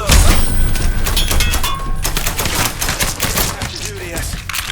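Rapid bursts of gunfire in the crime video game Mafia 3, loud, dense cracks and thuds layered over a constant busy background with brief shouting.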